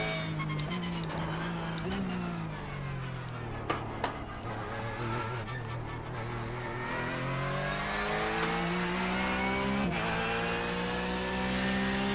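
A Porsche 911 Cup race car laps Suzuka circuit, its engine loud and close from onboard, rising steadily in pitch through each gear with brief drops at the shifts, then climbing again.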